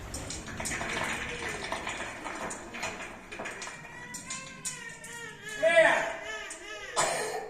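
A few coughs from a child, mixed with background chatter and a splashing, watery backdrop.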